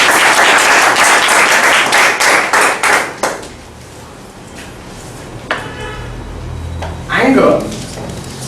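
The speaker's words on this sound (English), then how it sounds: "Please give him a big round of applause." Applause from a Toastmasters club audience, a loud burst of many hands clapping for about three seconds, then fading into quieter room noise with a few scattered claps and a voice near the end.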